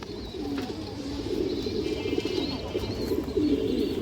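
A female Palla-line pigeon coos in soft, repeated throaty phrases, close and continuous, against faint background noise.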